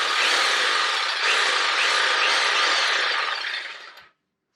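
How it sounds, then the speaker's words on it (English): Ryobi jigsaw sawing through wood for a barn door in a cargo-trailer tiny home build, a steady loud buzzing rasp lasting about four seconds before the blade stops abruptly. "we got a jigsaw from Ryobi"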